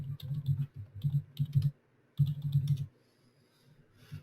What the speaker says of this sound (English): So what I'll do is I'll type.